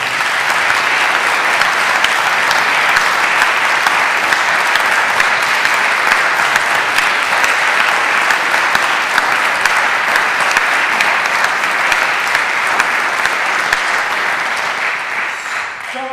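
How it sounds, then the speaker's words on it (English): A large audience at a school vocal music competition final claps steadily and loudly for a long stretch. The dense applause fades at the very end. "So can we give them a big round of applause?"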